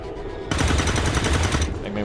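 Rapid automatic gunfire in the XCOM 2 strategy game, a sudden dense burst of shots that starts abruptly, rattles on steadily for over a second, then cuts off.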